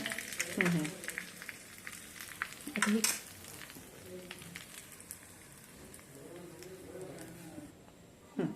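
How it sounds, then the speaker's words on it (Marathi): Curry leaves and asafoetida sizzle in hot oil while tempering kadhi, a steady crackling hiss with a few sharper spits, and someone talks over it. "ही आपण कढीला फोडणी दिली"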